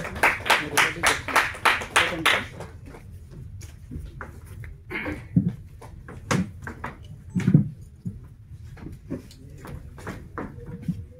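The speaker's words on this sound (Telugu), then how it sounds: "గట్టిగా క్లాప్స్ అండి" Audience at a Telugu film event for Ureka Saka Meka claps in a quick, even rhythm for a couple of seconds, then the applause dies away into a quieter hall with scattered knocks and murmurs.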